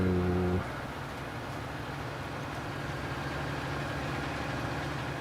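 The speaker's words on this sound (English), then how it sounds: "you can hear the engine pulling a little bit harder" A farm tractor engine labors steadily while pulling a plow uphill, a continuous mid-to-low rumble with a slight rise in effort, preceded by a brief tonal hum at the start; no talking.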